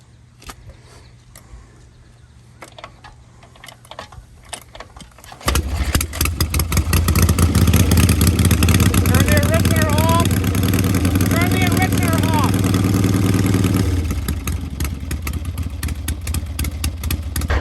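A 1977 Harley-Davidson Ironhead motorcycle is kicked over a few times before catching, then settles into a loud, close, lumpy idle that runs steadily under talking before easing down near the end.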